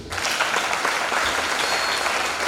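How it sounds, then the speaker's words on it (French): An audience at a church dedication concert applauds and cheers for the parents, with dense, loud, continuous clapping throughout. "Est-ce qu'on peut acclamer pour eux?"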